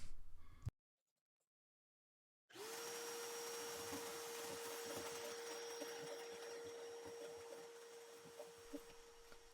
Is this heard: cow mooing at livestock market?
no